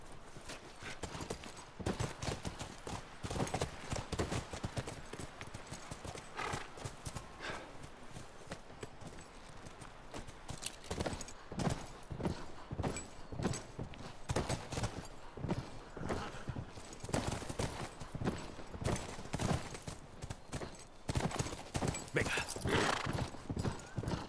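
Horse hooves clip-clop steadily on the ground in the video game The Last of Us, a continuous close walking rhythm with occasional whinnies, under faint background sound.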